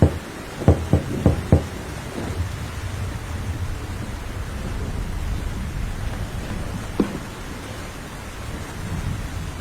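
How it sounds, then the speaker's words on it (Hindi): Cartoon knocking on the door of a bird's nest in a tree during rain: four quick, sharp knocks in a row, then a single knock several seconds later, over a steady rain-like hiss. "बल्लू घोंसले का दरवाजा खटखटाता है।"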